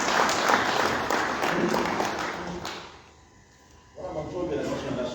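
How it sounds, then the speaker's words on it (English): Audience applause for a presenter at a business and currency event in Masvingo, dense clapping that fades out, then resumes strongly after a brief lull, with voices mixed in. "A round of applause for Mr. Christopher Mgaba."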